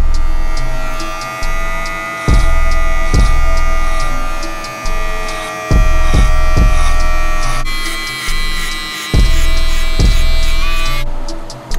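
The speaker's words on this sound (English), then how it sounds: "we're gonna start working our guidelines using our clipper" An electric hair clipper with no guard, lever open, cuts hair during a self-fade, its loud, close buzz rich in overtones. It runs in repeated passes, about a second or two each, with brief dips between strokes.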